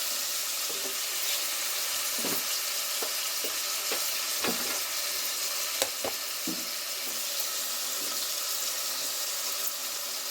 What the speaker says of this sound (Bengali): চিকেনটা ভাজা ভাজা হয়ে গেছে, আর চিকেনের যে পানিটা থাকে ওটা পুরো বেরিয়ে গেছে